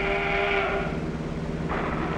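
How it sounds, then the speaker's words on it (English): A train rumbles past in a continuous heavy roar, with a drawn-out whistle tone sounding early on. "A train is coming."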